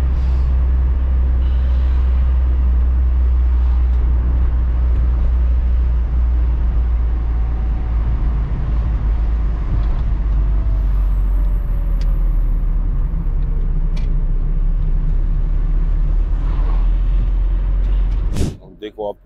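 Steady low road rumble and wind from a van crawling in slow traffic with its windows down, a continuous drone that holds for the whole stretch before a sharp knock near the end.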